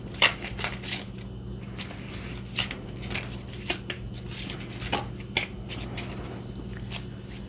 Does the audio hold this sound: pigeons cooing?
no